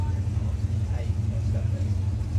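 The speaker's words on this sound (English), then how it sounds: "you're just hearing these cars hauling up to the finish line" Championship drag racing cars at Santa Pod Raceway's Festival of Power haul up to the finish line, making a steady, distant low roar that runs through the whole stretch beneath a commentator's voice.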